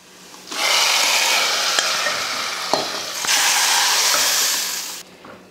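Hot tempering of mustard seeds, shallots and curry leaves is poured into sambar, bursting into a loud rushing hiss that surges twice over about five seconds with a few pops before cutting off, close and without speech.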